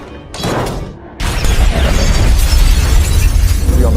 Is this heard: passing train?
no